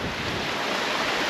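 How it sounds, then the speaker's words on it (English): Strong wind blowing across a winter lake at a carp fishing spot, a loud steady rushing roar with buffeting on the microphone, no voices. "the wind has got up big time"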